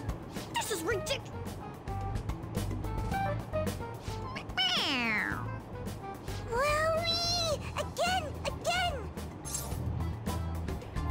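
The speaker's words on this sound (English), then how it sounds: "It meows when you press on its head." A toy cat from Persona 5 Royal meows several times when pressed, giving rising and falling electronic mews, some drawn out and warbling, over steady game background music.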